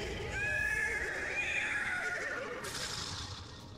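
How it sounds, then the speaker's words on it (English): A horse whinnies loudly and close, a long wavering neigh that trails off, with background noise continuing throughout. "Horse is displeased, yet the show must go on."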